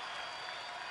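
A paid baseball crowd of about 20,000 cheers and makes noise at a night game, a steady, dense roar of many voices and clapping filling the stadium without a break.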